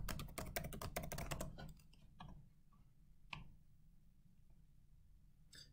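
Quick, close clicking of computer keyboard keys as a password is entered, a fast burst for about two seconds, then a few isolated taps in a quiet room.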